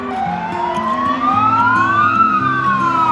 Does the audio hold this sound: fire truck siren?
yes